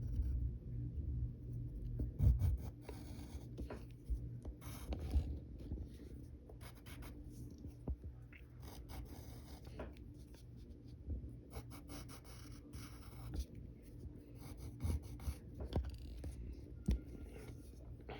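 Pencil strokes scratching across paper while drawing a gloved comic-book archer, continuous soft scratching with irregular rhythm, close and quiet, no voices.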